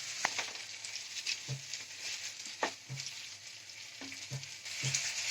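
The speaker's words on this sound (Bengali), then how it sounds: "এবার আমি এতে কিছুটা কড়াইশুঁটি দিয়ে দিচ্ছি।" Green peas hit hot oil and spices in a pan while a fish, potato and cauliflower curry cooks, giving a steady, close sizzle broken by several soft knocks of stirring.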